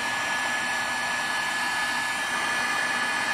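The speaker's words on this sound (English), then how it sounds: "be careful with the heat gun, the tip of the heat gun is gonna be hot after you use it" A heat gun blows a steady, loud rush of hot air onto tubing during a headrest DVD player installation in a 2020 Ford F150 Lariat, continuous and close, with no talk.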